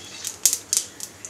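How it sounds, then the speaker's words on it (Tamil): Mustard seeds splutter in hot oil, a scatter of quick crackling pops at irregular intervals, close but fairly faint. "கடுகு வெளிச்சிருச்சு"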